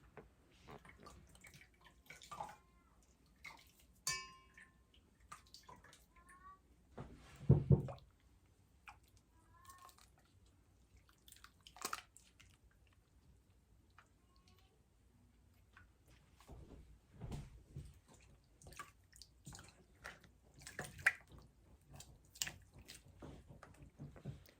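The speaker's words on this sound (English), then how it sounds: "I'm just going to press it and wash it, and I'm going to do that multiple times until the water comes out clean or clear." Homemade butter, churned from sour cream in a daisy churn, is pressed and washed in cold water, giving soft wet squishes, drips and splashes that come in quiet, irregular bursts, close by, with no one talking.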